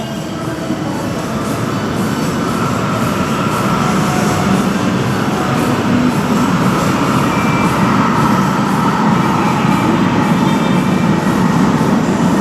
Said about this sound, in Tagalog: So palapit na yung train. Sakay na tayo guys ng train.